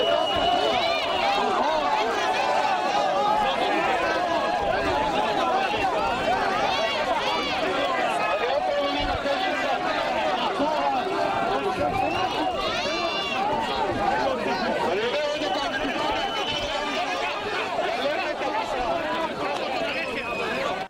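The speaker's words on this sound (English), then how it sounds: "That crowd is gathered outside the courtroom where the soldier Azaria is awaiting a verdict." A large crowd outside a courtroom awaiting the verdict of the Israeli soldier Azaria, with dense continuous shouting and babble of many voices, loud and close, and no single voice standing out.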